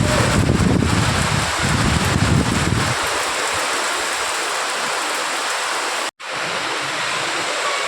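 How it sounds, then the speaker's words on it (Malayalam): A loud, steady downpour with wind buffeting the microphone, the roar easing slightly midway, with a brief dropout near the end. "നല്ല കാറ്റടിക്കുന്നുണ്ട് കേട്ടോ."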